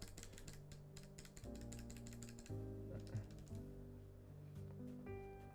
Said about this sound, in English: Shall we put on some keycaps and do a typing test?